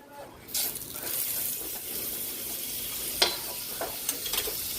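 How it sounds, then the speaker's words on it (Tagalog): Butter sizzling and frying in a pan as a Filipino dish is sautéed, a steady hiss with a few stirring clinks and scrapes, close and alone without talk. "Magigisa na po tayo."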